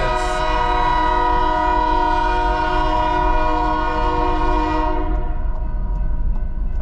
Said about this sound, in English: Oh, thank goodness I got past that train.